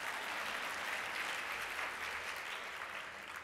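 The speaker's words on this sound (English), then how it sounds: "okay, I'll take that clap too" Audience applause at a political action committee luncheon, a steady dense wash of clapping from a large room, fairly loud and even for a few seconds with no voice over it.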